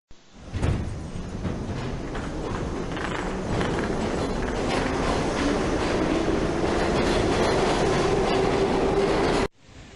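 A train runs along rails with a loud rumble and a rhythmic clickety-clack of wheels. The sound builds, holds steady for several seconds, then cuts off abruptly.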